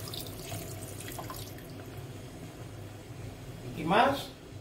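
Water pours into a cooking pot of braised pork cheeks with wine, a short splashing gush rising near the end over a quiet kitchen background.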